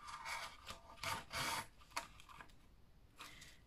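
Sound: wooden skewer piercing a paper plate

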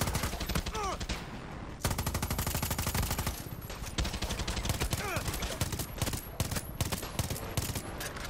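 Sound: gunfire in Far Cry 6 video game

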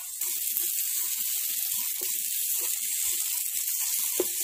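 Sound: taro pieces frying in hot mustard oil

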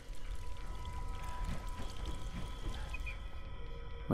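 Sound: haunted water faucet running in the Don't Starve video game

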